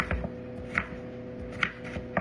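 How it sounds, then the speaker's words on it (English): A few sharp knife strikes on a cutting board, spaced irregularly, chopping firm potatoes, with a low steady hum in the background and no talking. "Almost done chopping up these potatoes."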